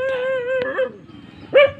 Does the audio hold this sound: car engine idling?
no